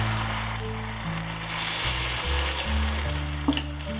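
Vada batter ladled into hot oil sizzles loudly and bubbles close up, a dense steady frying hiss with a few small pops and knocks, no talking.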